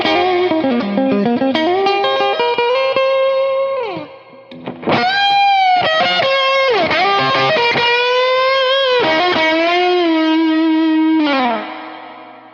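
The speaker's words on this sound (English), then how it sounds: "Here's a spring reverb setting good for clean and distorted leads." Electric guitar lead run through a spring reverb pedal, shifting between clean and distorted tones: sustained bent notes and quick phrases with a splashy reverb tail, loud and close, with a short pause near the middle and no talking.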